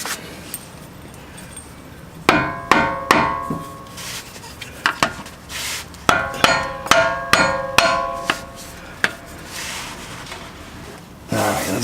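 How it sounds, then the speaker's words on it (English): A mallet taps a lower control arm skid plate into place on a Jeep Wrangler: two runs of sharp, ringing metallic knocks in a steady rhythm, loud and close, with a short pause between them. "Might need a little mallet here."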